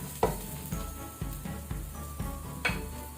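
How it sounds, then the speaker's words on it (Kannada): Onions fry in a pan for seafood biryani, a continuous close sizzle punctuated by rhythmic scrapes and stirs roughly every half second. "ಈಗ ಇಲ್ಲಿ ಈರುಳ್ಳಿ ಫ್ರೈ ಆಗಿದೆ"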